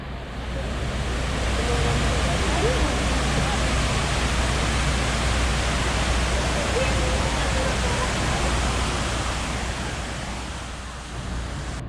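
Water of the fountains and reflecting pools at the 9/11 Memorial in New York City, a broad, constant rushing roar like a waterfall that fills the whole scene, with faint voices mixed into the wash.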